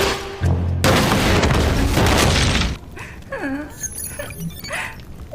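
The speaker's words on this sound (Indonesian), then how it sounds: "mengambil granat dan melempar ke teman-temannya sendiri" A grenade blast in a game or drama scene: a loud, sustained explosive boom with crashing debris for about three seconds, then quieter clatter and scattered voices.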